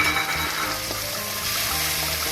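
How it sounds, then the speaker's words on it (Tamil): Tomatoes sautéing with onions in a pan for a dried-fish curry give a steady, even sizzle that carries on unbroken with no talk over it. "நம்ம எடுத்து வச்சுருக்க தக்காளியும் சேர்த்து நல்லா வணக்கிடலாம்"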